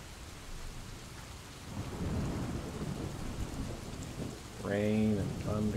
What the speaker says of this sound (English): Rain and thunder, thunderbolts of lightning.